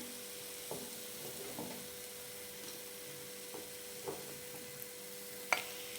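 Paniyaram batter made with puffed rice sizzles quietly in a pan, a soft steady fry with a few scattered light taps and clicks, one sharper click near the end; no voices.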